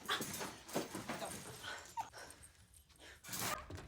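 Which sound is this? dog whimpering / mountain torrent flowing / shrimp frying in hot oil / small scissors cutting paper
dog whimpering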